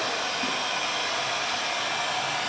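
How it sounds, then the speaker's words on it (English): A heat gun blows hot air for automotive shrink wrap work, a steady close rushing hiss of airflow without a break. "Then we'll grab the heat gun."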